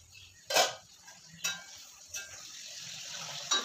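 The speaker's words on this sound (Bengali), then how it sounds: "তো একে একে আমি সব ভাজাগুলো ভেজে নিই" Potato and cauliflower pieces fry in a pan, a soft steady sizzle underneath punctuated by a few sharp clatters and stirring bursts spaced about a second apart.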